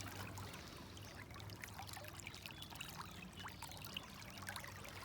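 Fast-moving creek water flows with a steady broadband rush and scattered trickling splashes, continuous and faint, with no talking.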